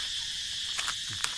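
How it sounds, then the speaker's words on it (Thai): Cicadas buzz in a loud, steady drone throughout, with a few faint soft clicks and rustles close by and no voices. "ได้ยินเสียงจักรจันทร์พี่น้อง"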